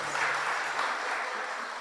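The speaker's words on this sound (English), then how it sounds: "please give them another round of applause." Brief, soft applause from an audience at a Divali celebration, a continuous wash of clapping heard at a moderate distance that fades slightly toward the end.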